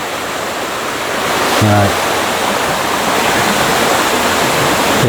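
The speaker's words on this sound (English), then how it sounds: "We're coming back up to the little creek, which is flowing" Water rushes steadily in a continuous broadband roar from a small creek swollen by five days of rain, with a brief low tone midway.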